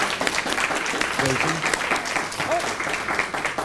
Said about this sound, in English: Let's give a warm applause for the candidates who are running for state Senate District